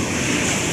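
Large sea waves wash in at a beach where people are swimming, a loud broadband rushing surf with no distinct breaks over less than a second.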